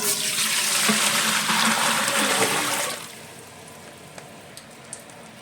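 Water is poured into a cooking pot for boiling, a full rushing splash for about three seconds that stops abruptly, followed by a few faint drips and taps.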